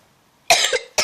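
A child coughs twice, close and loud, two short harsh bursts in quick succession.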